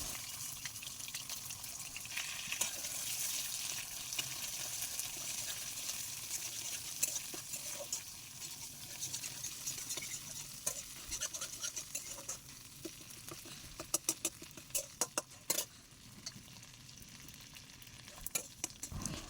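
Chital fish frying in hot oil in a wok, a steady dense sizzle with spattering crackles that grow sharper and more frequent toward the end, close and continuous with no talking.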